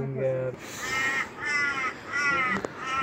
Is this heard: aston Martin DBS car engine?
no